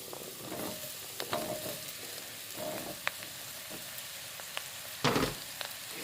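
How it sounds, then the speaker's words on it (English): Potatoes stirred into a pan of fried onions, turmeric and spices for a spicy potato and chickpea curry, giving a steady sizzle broken by scraping spoon strokes and a louder clatter near the end, close and with no talking. "now I'm going to add in my potatoes and start to coat them"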